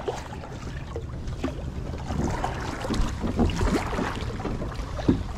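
Steady wind buffets a fishing boat on open water on a windy day, a broad continuous rush with gusts and faint knocks and creaks of the hull.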